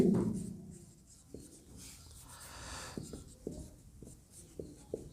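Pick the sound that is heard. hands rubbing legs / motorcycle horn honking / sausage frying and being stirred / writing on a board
writing on a board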